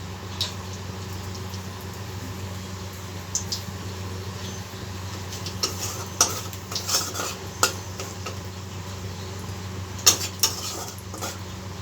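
A bay leaf and a dry red chilli go into hot oil for tempering a vegetarian potato dum, giving a low background sizzle with scattered metallic clinks and scrapes of a spoon against the pan, close by and without talk.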